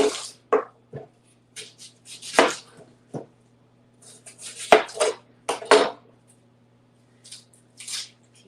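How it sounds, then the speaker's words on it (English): Knife chopping an onion on a cutting board in a home kitchen, with crisp irregular thuds and clacks in loose bursts, some closely spaced and others after short pauses, close and fairly loud with quiet gaps between. "now let's cut up this onion"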